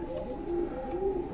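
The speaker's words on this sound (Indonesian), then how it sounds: "Ini burung kecil, benar-benar kecil loh." A small bird cooing softly and steadily, a low repeated call close by, with no talking.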